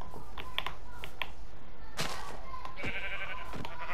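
Sheep in the Minecraft video game bleat in several short, close bleats scattered through the clip, mixed with clicky keyboard typing from the player.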